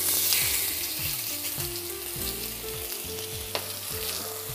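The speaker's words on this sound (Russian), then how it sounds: "мы жарим тунца" Tuna sizzles loudly in a hot pan, with a crackling hiss and repeated scraping thumps as it is stirred and moved around.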